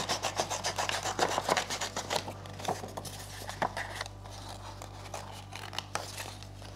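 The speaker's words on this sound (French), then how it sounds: "il faut juste découper avec des ciseaux les contours." Scissors cut around the outline of a paper fir tree cut-out in a craft session: a close, repeated rasping and snipping that is dense at first, then becomes sparser and quieter.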